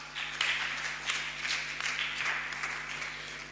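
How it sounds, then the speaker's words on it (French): A church congregation applauding, a steady patter of many hands clapping at moderate distance, with faint bursts and swells over about three seconds. "On acclame, on acclame."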